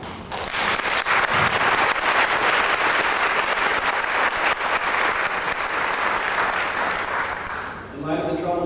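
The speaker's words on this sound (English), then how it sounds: "A big round of applause because that's been a great conference." Conference audience at a 1996 scientific education meeting in Boston breaks into sustained, dense applause lasting about eight seconds, steady and loud before tapering sharply at the end as a voice begins speaking.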